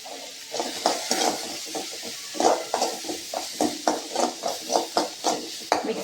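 Ginger and garlic frying in a pan with sautéed shallots and tomatoes while a spoon scrapes and stirs them. Repeated rhythmic scraping strokes sit over a soft sizzle, close and fairly loud, with no voices.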